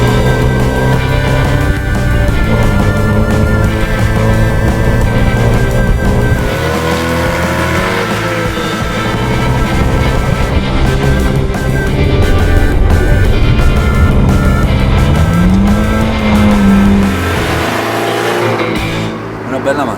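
A 1972 Alfa Romeo Alfetta 1.8 with narrow shield grille and four headlights, 122 hp, driven hard: a loud, continuous engine drone whose pitch climbs and falls through the gears, with some talk over it.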